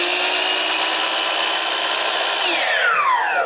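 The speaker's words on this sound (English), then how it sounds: "I'll put the miter saw on." A miter saw motor runs loud and close at a steady whine for several seconds, then begins spinning down near the end, its pitch sliding lower, on a house building site; no talking.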